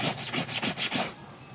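Quick, rhythmic scrubbing strokes as a brush works grime out of seams, about six close, loud rubbing passes in a row before trailing off.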